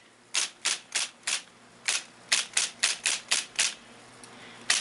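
IBM Selectric 3 electric typewriter keys typing: about a dozen crisp, sharp keystrokes in quick bursts, close and isolated, with brief pauses between groups over a faint motor hum.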